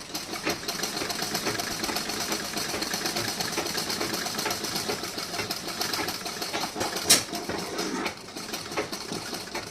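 A sewing machine stitching a blouse runs in a fast, steady mechanical rattle, close and continuous, with a brief louder clack near the end before easing slightly.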